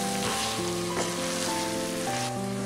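Mushrooms and peas sizzle steadily in a pan for a mushroom matar curry, a continuous frying hiss running under prominent background music.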